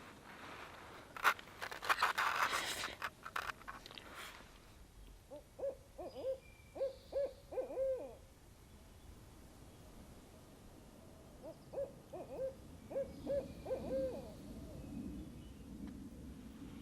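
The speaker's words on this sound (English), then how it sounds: "Last night I had owls at my other campsite, and tonight I do as well." Owls hoot at night around a forest campsite during stormy rainy weather, two series of soft rhythmic hoots at moderate distance, preceded by rustling scrapes and a low rumble of background noise.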